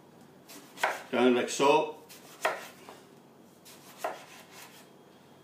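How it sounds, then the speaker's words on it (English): A knife slices an aubergine into fairly thick rounds, making a few soft cuts that come through under a person talking. "And then we cut slices, not too thin,"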